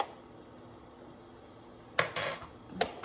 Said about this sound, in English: We're going to give it a little stir.